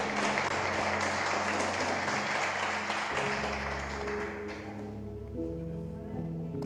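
Church congregation applause, a dense, loud wash of clapping that fills the room and then eases off, with a low musical drone sustained underneath throughout.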